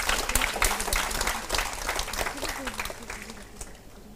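Scattered audience clapping at an international demographics conference plenary, moderately loud at first and thinning out, with a voice talking over it.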